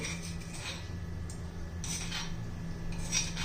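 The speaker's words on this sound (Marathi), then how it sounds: "ठेचा करून झालेला आहे मिरचीचा लसणाचा तो आता काढून घेऊया" Crushed green chili and garlic thecha is scraped out of a stone mortar, giving soft repeated clinks and scrapes of a utensil against stone over a steady low background hum, close and fairly quiet, with no talking.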